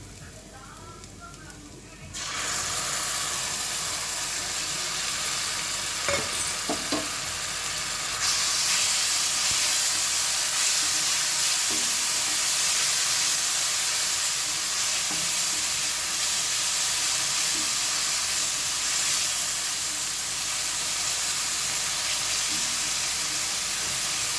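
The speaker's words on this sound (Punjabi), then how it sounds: "10 ਮਿੰਟ ਮਸਾਲੇ ਨੂੰ ਭੁੰਨਾਂਗੇ" Spiced masala with grated tomatoes and chopped chilies fries in a pan with a loud, steady hiss and sizzle that rises sharply after a brief quieter start and then holds constant, with occasional stirring.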